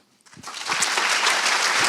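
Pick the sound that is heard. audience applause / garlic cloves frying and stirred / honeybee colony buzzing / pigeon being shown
audience applause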